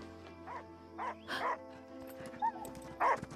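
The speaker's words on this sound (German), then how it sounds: "Und da kommt der Hund." A dog in the video game Last Day of June gives several short barks and yips at irregular intervals over a steady hum of game music, fairly close and moderately loud.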